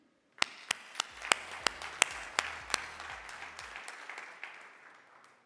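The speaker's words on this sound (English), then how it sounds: "Especially, let's give a big round of applause to Tony and his team." Keynote audience at a telecom panel opening bursts into applause: a sharp onset of many hands clapping, with distinct louder claps punctuating the dense patter, then gradually thinning and fading away.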